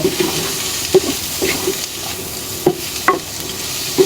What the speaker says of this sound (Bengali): এখন আমি সব কিছু ভালোভাবে একটু তেলের উপর নেড়ে নিব।